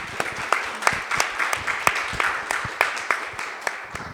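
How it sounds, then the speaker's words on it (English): Audience applause welcoming Iryna Tsilyk at the start of a poetry talk in Poland, a dense, steady clatter of many hands clapping throughout, with no voices over it. "a huge round of applause at the very beginning to Iryna"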